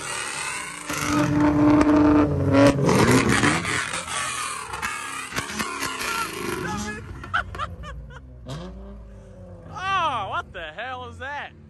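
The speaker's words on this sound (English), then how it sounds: "Do we got a rev battle going on?" Car engines rev loudly at a nighttime 7-Eleven car meet, a roaring burst building then fading, followed by excited shouting and chatter from the crowd over the idling engines.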